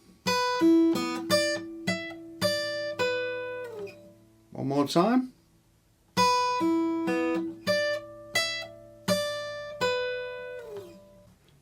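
Plucked guitar notes ring out in a short melodic phrase, broken midway by a brief spoken remark, then the phrase resumes with sustained, fairly loud notes.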